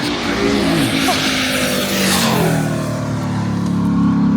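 A drag racing truck's loud, continuous engine roar with a jet-like rushing quality, steady and close throughout with no break.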